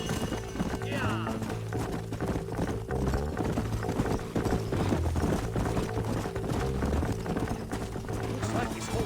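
Galloping horse hooves in Red Dead Redemption on PS4, a busy rhythmic clip-clop of several riders under loud game music and voices, with a short whinny early on.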